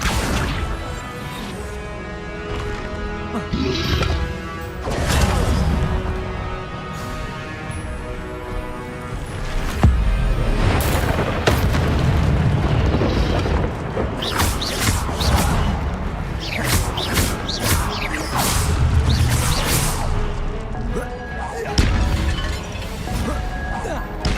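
Spells cast in the Hogwarts Legacy video game, a dense loud run of magical whooshes, crashes and impacts over a musical score, with some speech mixed in.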